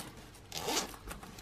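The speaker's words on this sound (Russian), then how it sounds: "Две молнии." A zipper on a waterproof laptop sleeve for a MacBook is drawn once in a short, close rasping pull that swells and fades, with no talking.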